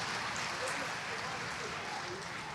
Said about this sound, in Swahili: naomba sote kwa pamoja kumpigie makofi kwa uongozi wake mzuri sana